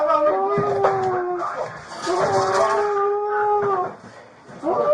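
A police K9 dog howls in long, rising wails with whimpering breaks during a SWAT operation inside a house, close and loud, repeated several times with voices in the background.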